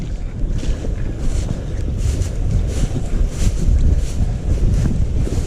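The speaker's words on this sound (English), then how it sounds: "It's pretty windy out right now" Strong, blustery wind roars and buffets the microphone continuously outdoors by a creek, with no voices.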